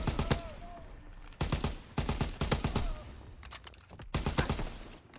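FG42 automatic rifle fire in Call of Duty: World War 2, heard as several dense bursts of rapid shots with brief gaps between them, loud and close, along with other gunfire in the match.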